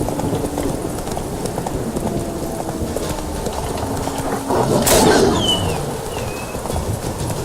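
Horse hooves clip-clop at a steady gallop through a midnight ride in The Witcher 3, a continuous rhythmic patter with a brief louder swell partway through and faint bird-like calls above.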